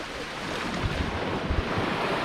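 Wake from a passing ship washes ashore in a continuous loud rush of surf and water, with wind buffeting the microphone throughout.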